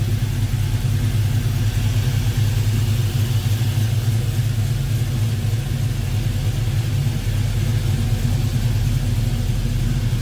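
A restomod 1970 Chevrolet C10 shortbox pickup with a cold air intake runs steadily nearby, a dense low rumble that holds an even level throughout, with no voices.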